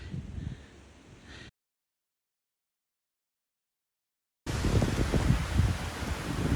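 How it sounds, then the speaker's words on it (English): Wind rushes across a mountain trail at Bald Knob in South Carolina, a rough low buffeting roar against the microphone that cuts out for a few seconds and then returns louder and steady. "That wind that started when I was up on Bald Knob is like really kicking in."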